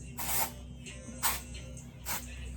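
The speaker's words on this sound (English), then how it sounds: "and I start spraying it" Rose-scented hair spray misted onto sectioned hair, three short hissing bursts from a pump bottle at close range, evenly spaced with quiet gaps between.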